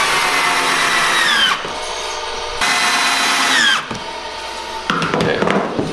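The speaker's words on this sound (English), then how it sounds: "we pre-drill those because they're kind of thin" A power drill pre-drills thin willow wood in two long bursts, its pitch dropping as each cut finishes, followed by scraping and handling noises.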